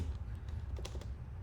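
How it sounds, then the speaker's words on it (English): Keyboard keys tapped in a quick irregular run, close and fairly quiet, over a steady low hum, during work on an app built in the Godot engine. "Let's just start typing and hopefully I'll figure it out."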